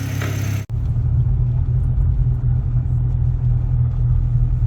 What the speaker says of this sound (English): So we're gonna go test drive it and see how it does.